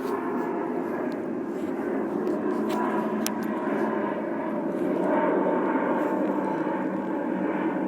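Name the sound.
airplane passing overhead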